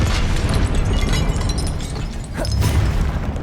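A fire spell cast in the video game Hogwarts Legacy: a loud, dense roaring burst of flame that fills the whole clip, with a brief swelling whoosh partway through.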